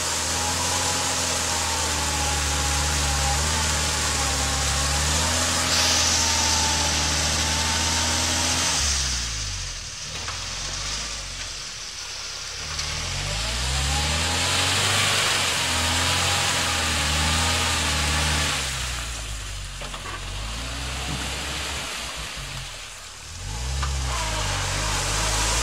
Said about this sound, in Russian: Нашли мы лужу и решили УАЗик искупать.